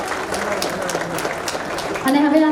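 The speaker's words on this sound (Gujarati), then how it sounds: "બધા છોકરાઓ માટે એકવાર પ્લીઝ જોરદાર તાળીઓ" Audience applause for the children at a 50th wedding anniversary gathering, a dense patter of clapping that swells louder near the end, with voices and tonal sound mixed in underneath.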